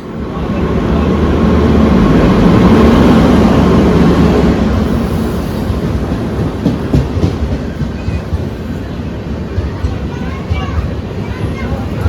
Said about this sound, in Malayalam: ഇതാ കറക്റ്റ് ട്രെയിൻ എത്തിയിട്ടുണ്ടായിരുന്നു